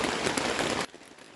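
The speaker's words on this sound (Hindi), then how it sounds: "फिर आप वॉइस सुने बारिश की।" Rain falling at a campsite at night, a dense, steady patter that cuts off abruptly partway through, leaving only faint background.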